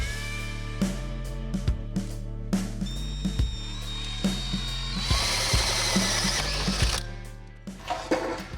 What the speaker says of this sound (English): we do have to drill a hole in the tunnel to get the shifter up through there